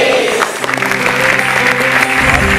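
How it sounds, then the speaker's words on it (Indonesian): A studio audience at a televised motivational talk show applauds in a busy clatter of many hands, while sustained music tones run underneath. "Kita berikan tepuk tangan, terima kasih sudah menjawab"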